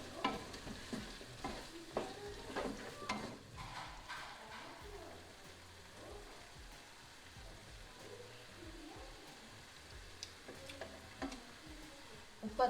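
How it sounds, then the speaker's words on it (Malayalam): Vegetable biriyani masala being stirred and mixed in a pan for a Kerala-style biriyani, with soft scraping and a faint sizzle continuing steadily throughout, fairly quiet and close. "നന്നായിട്ട് മിക്സ് ചെയ്യാം."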